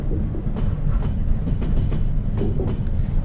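In the Trans-Siberian Railway Simulator game, a train gathers speed on the track with a low steady rumble and regular clicking wheel beats, no voices.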